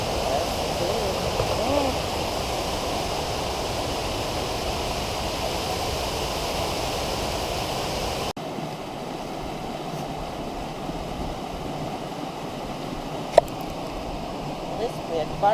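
Indian Creek rushes beside a hiking trail in a burned hollow, a steady broadband wash of flowing water nearby. It runs loud at first, then softens to a quieter background murmur partway through, with a sharp tap near the end.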